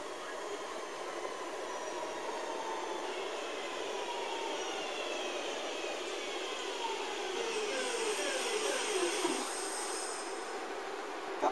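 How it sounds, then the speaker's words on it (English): A train pulls into a railway station in cold outdoor air, its steady rumble and whine rising gradually. Faint wheel squeals come in near the end, and no one speaks over it. "A train pulled into the station, though."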